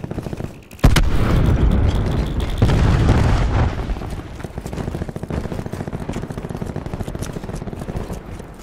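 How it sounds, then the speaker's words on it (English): Cluster grenade blasts in Black Ops 4: a sharp explosion near the start, then a second heavy burst, followed by a long rumbling tail of rapid crackling sub-detonations that keep going under loud sustained game noise. "Throwing cluster grenade."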